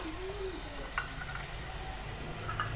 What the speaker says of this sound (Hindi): टमाटर ऐड करने के बाद हम डालेंगे ये क्रश की हुई हमारी सब्ज़ मिर्चें हैं